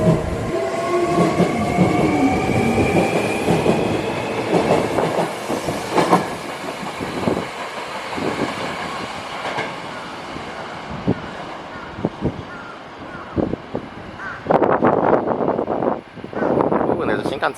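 A limited express train pulls into an Osaka station with squealing wheels, clattering and rumbling, brakes hissing; a person talks over it and a horn sounds briefly.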